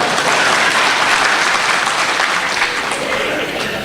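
Loud, sustained applause from a large audience at an annual leadership lecture, a thick, continuous roar of clapping hands that fills the whole clip and eases slightly near the end.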